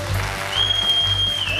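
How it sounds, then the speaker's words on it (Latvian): A studio audience at a karaoke TV championship semifinal applauds to welcome a contestant, with steady clapping and a sustained tone running through it, and no voices rise clearly above the clapping. "Dāmas un kungi, lūdzu ar ovācijām sagaidām Frīdi"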